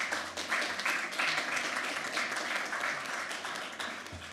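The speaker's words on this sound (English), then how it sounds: "Hopefully a round of applause." A round of applause at a town board of commissioners meeting, many people clapping in a room at moderate volume, steady and then tapering slightly toward the end.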